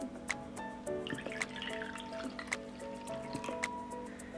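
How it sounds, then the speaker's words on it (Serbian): A strained herbal lemon drink is poured into a cup as a quiet, continuous trickle with small drips and splashes, close by and fairly soft throughout. "I sipati u šolju."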